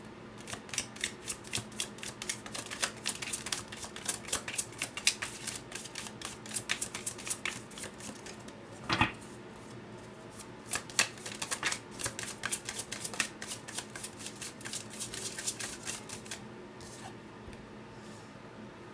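Spellcaster Tarot cards are shuffled by hand in rapid, crisp riffling bursts, close and clear, with a brief pause and a soft thump midway before the shuffling resumes.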